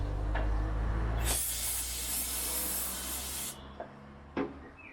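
Brake cleaner sprayed from an aerosol can on a 1970s Austin Allegro under revival: a single close, loud hissing burst lasting about two seconds, followed by a couple of small knocks, no talk.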